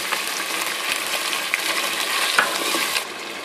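Yogurt is stirred into biryani masala in a cooking pot, giving a steady wet scraping and sizzling texture with a few light clinks of the spoon against the metal.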